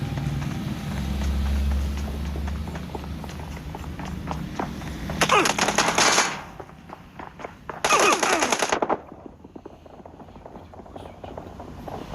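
Two loud bursts of automatic machine-gun fire in the battle-royale game PUBG Mobile, each about a second long, rattle out over a bed of game ambience and footsteps.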